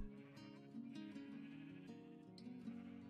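In Minecraft, a sheep bleats in a long, wavering, quiet cry over a steady low background tone, with no talking.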